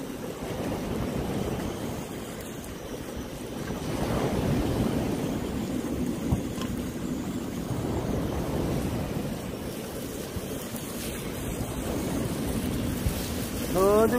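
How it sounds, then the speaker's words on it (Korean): Wind blows by the sea at Gampo, rumbling in gusts against the microphone with the surf beneath it, loud and continuous. A voice is faintly heard at times. "바람이 불어갖고"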